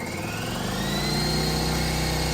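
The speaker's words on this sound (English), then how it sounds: "Let's start the big air compressor so we know how much it pulls by itself." A big air compressor runs at a steady, loud mechanical drone with a rising motor whine as it starts up, with no talking over it.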